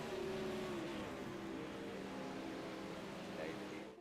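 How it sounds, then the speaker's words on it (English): Sprint car engines in the iRacing racing game drone and rev steadily at a distance, a continuous faint roar of a dirt-track race, with a commentator talking over it. "He's now got that sprint car in the lead."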